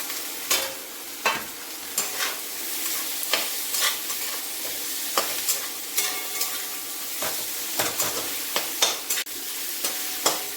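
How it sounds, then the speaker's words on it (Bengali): Cauliflower florets stir-fried in a pan with chilli paste for a crisp singara filling, giving a steady sizzle broken by repeated sharp scrapes and clacks of a spatula, close and alone with no talk. "এইবার দিয়ে দেবো এর মধ্যে ফুলকপিগুলো।"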